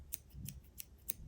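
Stainless steel scissors open and close four times in a steady rhythm, each snip a crisp metallic click heard up close and alone in a quiet room.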